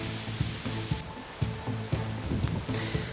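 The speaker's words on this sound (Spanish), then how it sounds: "Más de 20 metros de caída y abundante agua. Así está la cascada de la Toba" The Toba waterfall near Soria, swollen with abundant water and falling more than 20 metres, makes a steady, loud rushing roar, with regular rhythmic thumps running through it.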